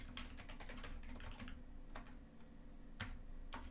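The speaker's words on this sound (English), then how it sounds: "if we type OK in the text field" Rapid, close clatter of typing on a computer keyboard in uneven bursts of keystrokes with short pauses, steady and fairly quiet, no talking.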